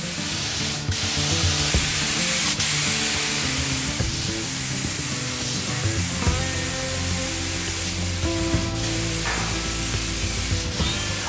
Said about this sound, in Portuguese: Já posso correr solda aqui em toda a volta